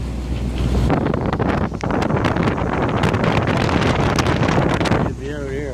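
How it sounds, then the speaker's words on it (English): Strong wind of about 30 knots buffets the microphone around an anchored boat in choppy four-foot waves, a loud continuous roar that drops off near the end. "30 knots of wind, 4 foot fucking waves."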